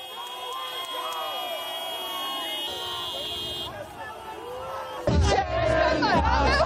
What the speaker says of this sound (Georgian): ისმოდა გამარჯვების შეძახილები, საზეიმო სიმღერები და მანქანის სიგნალები